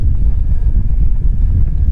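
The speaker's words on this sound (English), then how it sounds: "it's a little bit windy, windier than I'd like" Steady wind buffets a microphone on a drone flying low over water near a kayak and an island, a continuous loud low rumble with gusty fluctuations throughout and no other clear sounds.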